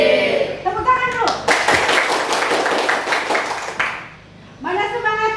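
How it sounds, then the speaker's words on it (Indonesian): Schoolchildren clap together in a classroom, a brief burst of rhythmic clapping in the middle, framed by a teacher's voice and children's voices before and after. "Tepuk tangan dulu"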